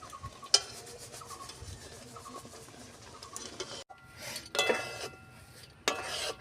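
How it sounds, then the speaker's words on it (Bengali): Fried semolina tipped into a pan of sugar syrup for jackfruit naru, then stirred: scraping and rubbing of a spoon against the metal pan with light clinks and a few sharper knocks, close and fairly quiet, no voices. "এবার আমি ভেজে রাখা সুজিটা ঢেলে দেব"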